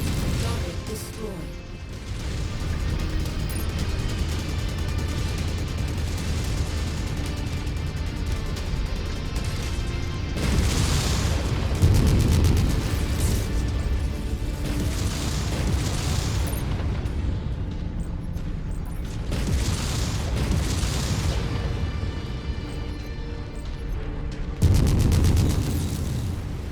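Loud, continuous battlefield din from MechWarrior 5 as an enemy generator is destroyed: repeated heavy booms and crashing explosions with bursts at roughly 11 and 25 seconds over dense rumble, with radio voices talking throughout.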